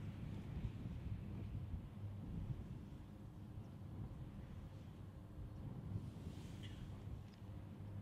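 Low, steady wind rumble buffets the microphone at the foot of a wind turbine, faint and continuous, with no voices.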